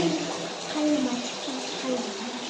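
Water running from a pipe into a small inflatable paddling pool outdoors, a steady broadband splashing rush that continues evenly throughout, with faint voices talking underneath.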